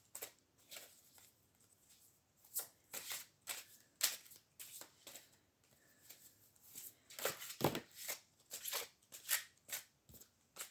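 Large oracle cards being shuffled by hand in irregular bursts of riffling and flicking, close up and fairly quiet, with short pauses between shuffles.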